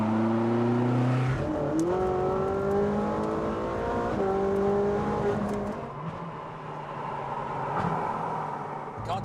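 Supercar engine revving hard from the cabin while driving, with rising and falling harmonic engine notes through gear changes, loud and continuous throughout.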